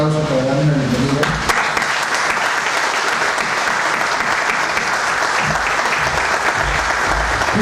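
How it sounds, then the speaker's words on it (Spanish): An audience bursts into strong, sustained applause to welcome a speaker at a monthly conference, following a moment of a voice at the start; the clapping stays loud and even for several seconds. "les pido un aplauso para darle una bienvenida"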